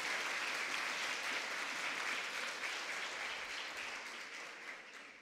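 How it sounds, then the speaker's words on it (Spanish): Sustained applause from a large crowd at a regional oratory contest final in the Ngäbe-Buglé region of Panama, a dense wash of clapping that holds steady and slowly fades toward the end. "le demos un fortísimo aplauso"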